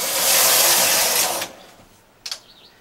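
A domestic knitting machine carriage sweeps across a row of needles on a sweater back, a loud rushing whir lasting about a second and a half that stops abruptly, followed by a brief double clack.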